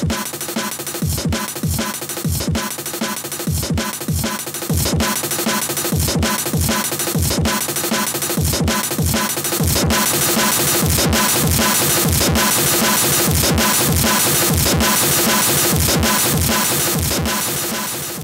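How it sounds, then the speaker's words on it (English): A distorted drum sample in Pure Data plays a steady looping beat, with punchy kicks and crunchy, saturated hits repeating loudly and evenly throughout, with no speech. "Let's add distortion to a drum sample."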